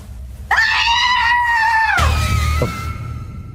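A woman screams in a Filipino horror audio drama about an aswang, giving a loud, sustained, high-pitched shriek that falls off into a second, lower wailing cry.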